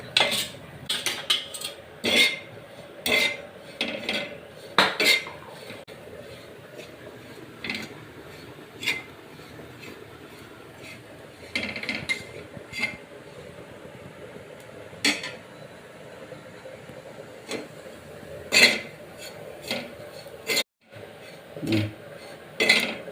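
Dry coconut being roasted in a pan for chicken biryani masala, with intermittent metallic scrapes and clinks of a spatula stirring against the pan, close and fairly soft, no talking.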